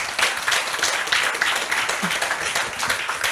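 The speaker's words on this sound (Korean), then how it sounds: "큰 박수 부탁드리겠습니다." An audience at a lifelong-learning forum in Gwangmyeong claps for a speaker, a busy, even spread of hands sustained for the whole stretch without voices.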